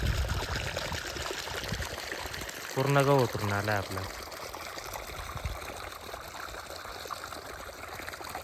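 Irrigation water streams into a sprouted wheat field with a continuous trickling, gushing flow throughout, while someone speaks briefly near the middle.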